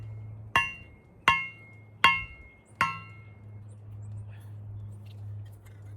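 Four sharp metallic strikes from a post hole digger pounding a stake land at a steady pace, each ringing briefly, close and loud over a low background hum, followed by quiet.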